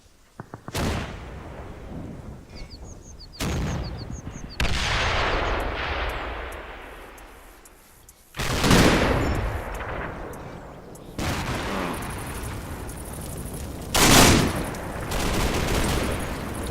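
Infantry gunfire in the Combat Mission video game, several heavy single reports and short volleys spread over the stretch with rumbling tails, a voice talking faintly beneath.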